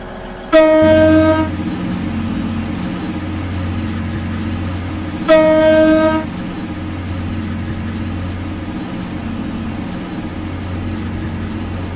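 A Class 185 train horn in a video game sounds twice in long bright blasts, about five seconds apart, over a steady low rumble of a moving train.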